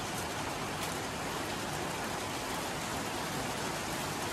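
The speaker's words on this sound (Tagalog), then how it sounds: "Naririnig niyo po yung lakas ng ulan." Heavy rain pouring down steadily outdoors, a dense, even hiss of water striking surfaces with no pauses, fairly soft in level and with no voices.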